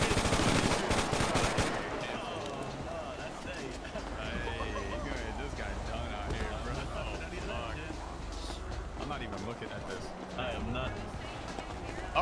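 Gunfire in the game GTA V during roleplay, a burst of rapid shots at the start that fades into scattered, busy game noise with voices talking throughout.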